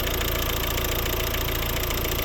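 A Volvo 1.6 D2 diesel four-cylinder engine with turbo, a 2012 car, runs at a steady idle, with an even, continuous mechanical clatter close by and no voices.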